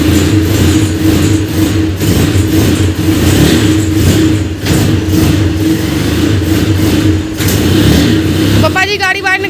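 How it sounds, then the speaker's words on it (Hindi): A car engine runs loud and close as the car is driven out through a gate, holding a steady, throaty drone with slight surges for the whole stretch, with voices faintly underneath and a brief warbling tone at the very end. "पापा जी गाड़ी बाहर निकालने लगे हैं"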